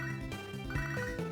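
A phone rings in Pokémon HeartGold as a short, bright electronic ringtone melody, steady and clear at moderate volume.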